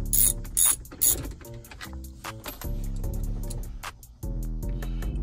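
A ratchet or screwdriver clicks while dash screws come out of a Chevrolet Tahoe during a radio removal, with sharp close clicks over a steady tonal hum and a few louder knocks, no talking.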